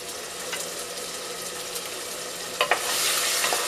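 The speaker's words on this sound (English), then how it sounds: "And then I stir a little bit." Chopped garlic and ginger fry in a pot of oil for Ghanaian jollof rice, a continuous close sizzle with a couple of sharp spoon-against-pot knocks as it is stirred, brighter hiss rising at the end.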